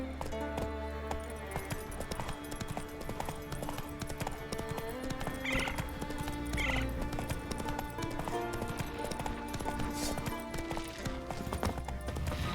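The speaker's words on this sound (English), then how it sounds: "Whoa there, Roach." A horse's hooves clip-clop steadily at a run in The Witcher 3 video game, loud and continuous, with two short neighs partway through over a music bed.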